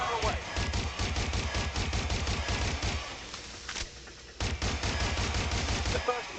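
Rapid bursts of automatic gunfire in the video game Watch Dogs Legion, loud and dense for about three seconds, a brief lull with lighter shots, then heavy firing resumes to the end.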